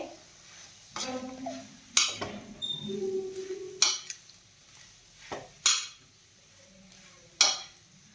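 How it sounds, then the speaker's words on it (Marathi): Mashed potato is stirred and sautéed with spices in a pan for samosa filling, heard as repeated loud metal scrapes and clanks of a spatula against the pan every second or two, with faint sizzling between. "मसाले चांगले परतले की त्यामध्ये आता मॅश केलेला बटाटा घालून घ्यायचा आहे। बटाटा यामध्ये छान परतून घ्यायचा आहे।"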